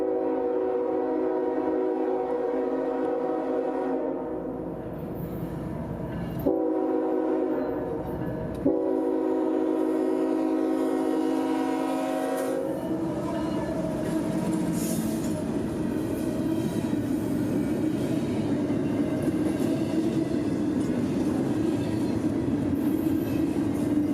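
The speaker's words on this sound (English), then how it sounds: "including trains like this I-143, intermodal traffic from Fairburn in Atlanta to Jacksonville's Duval Yard" An I-143 intermodal freight train over 7,000 feet long rolls past near Baldwin and Callahan, sounding its horn in loud sustained blasts over a steady rumble of wheels and wagons, with no talk.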